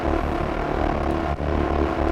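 Granulized pad run through iZotope Trash's Cracked Actress distortion with EQ cutting lows and mids: a thick, gritty, continuous roaring texture, steady and loud with a short dip partway, no voices.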